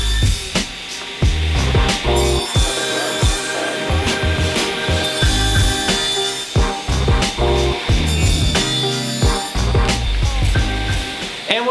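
Wooden boards are cut to length against a stop block on a table saw, with repeated loud, close bursts of whining cutting and knocking as boards are handled between passes.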